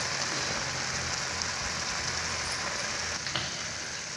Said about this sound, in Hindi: अपने मसाले को भूनने देंगे